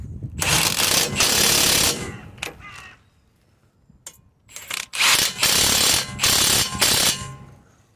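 New 19mm ball joint bolts on a Citroen Relay / Fiat Ducato van being tightened, loud rattling bursts of a power ratchet close by, several runs separated by brief pauses.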